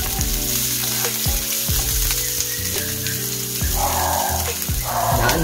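Onions hit hot oil in a pan, producing a loud, crackling sizzle that stays constant and close, with a faint hum of something running in the background.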